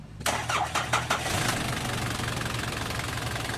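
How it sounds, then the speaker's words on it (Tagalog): A Nissan Frontier truck engine cranks with a few quick bursts, catches, and settles into a steady, loud mechanical idle that runs on without any voices. "Tapos pa-start ko na itong makina."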